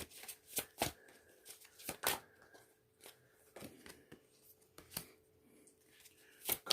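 Cards shuffled for a card reading, with sharp repeated slaps and riffles at an uneven rhythm, close by and quiet, with no voice.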